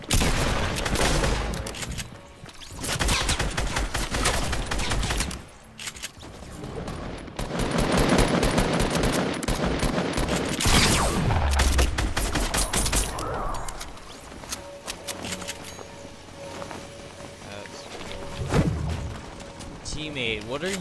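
Rapid bursts of gunfire in a Fortnite Team Rumble match, dense volleys of automatic shots and booms coming in waves over a continuous game mix, with players talking throughout.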